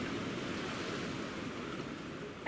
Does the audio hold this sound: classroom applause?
no